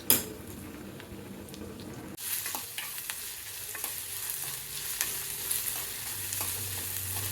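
Drumstick pieces fry in very hot oil on a stove, a loud, dense, continuous sizzle close by with occasional clinks of a utensil in the pan.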